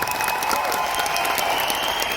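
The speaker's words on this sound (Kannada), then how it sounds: "ಜೋರಾಯಿನವರ ಚಪ್ಪಾಳೆ" Loud, dense applause from a theatre audience at the close of a Tulu stage drama, Shivadootha Guliga, performed in Dubai; steady, sustained clapping filling the whole stretch with no pauses.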